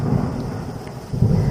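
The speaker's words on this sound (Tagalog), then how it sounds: "Ang lakas-lakas ng hangin at walang katigil-tigil ang malakas na ulan." A thunderstorm with heavy rain and strong wind: a dense, constant roar of rain with low rumbling that swells near the end, with no one speaking.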